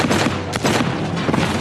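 A rapid, loud burst of gunfire from an Indonesian action film, several dense shots packed into under two seconds with booming low end and no pauses between them.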